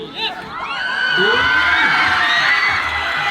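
Crowd of spectators cheers and whoops at a local football match between Snip United FC and Kuki FC, a loud mass of shouting voices that swells and holds steady after a brief opening yell.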